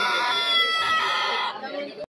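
A rooster crows at a busy poultry market in Charigram, its long, ragged call loud and close for about a second and a half, with voices chattering around it.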